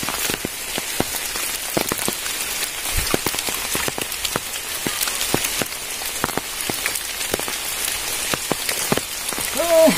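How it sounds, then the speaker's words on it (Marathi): First monsoon rain falls in Konkan, a steady dense patter on surfaces close by with scattered heavier drips, no voices. "हा मस्त पाऊस"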